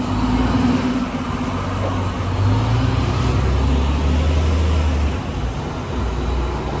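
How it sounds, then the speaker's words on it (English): A Halsted city bus pulls away from an Orange Line station in Chicago, its diesel engine rumbling loud and steady as it accelerates, with a faint air-brake hiss and surrounding traffic noise. "There's the bus leaving."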